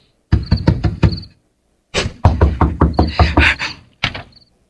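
Knuckles rap on a door in loud, close bursts: a quick run of knocks, a pause, a longer series of raps, then a single short knock at the end, with no voices.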